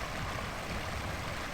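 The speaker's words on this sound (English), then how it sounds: "And of course, the sound of that running water." A creek's running water flows steadily nearby, a continuous broadband rush with no voices.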